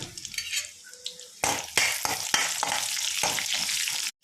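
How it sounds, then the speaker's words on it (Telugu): After a few quiet kitchen clinks, cumin, mustard seeds and garlic drop into hot oil for tempering and crackle loudly, a sharp sizzle that continues steadily to the end. "ఇప్పుడైతే పోపు వేసుకుందాం"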